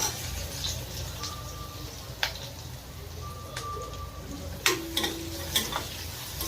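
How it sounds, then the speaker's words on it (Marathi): Crushed garlic fries in hot oil for gawar bhaji, a steady low sizzle with occasional sharp ticks and clinks of a spoon against the pan, close and fairly quiet. "लसूण असा गुलाबी रंगावर परतून घ्यायचा आपल्याला."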